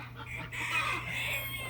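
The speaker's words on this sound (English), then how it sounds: "The chickens are getting up there, ready to roost for the night." Hens getting ready to roost for the night cluck and murmur softly at close range for a moment, with a faint steady hum underneath.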